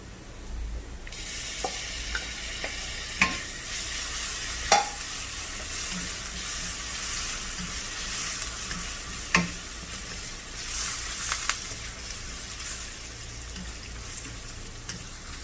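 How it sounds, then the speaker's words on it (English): Ginger garlic paste sizzles steadily in a hot pan for a prawn thokku while occasional stirs and clinks of a utensil break through. The sound is close and fairly quiet, with no talking. "We are now going to add in the 1 teaspoon of ginger garlic paste."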